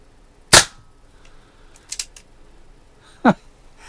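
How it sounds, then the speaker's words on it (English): A Daisy Red Ryder BB pistol fires a few sharp, snappy pops, spaced a second or more apart. The first is loudest, and the rest are crisp and close against a quiet background. "Let's try to shoot and see exactly where I'm hitting here."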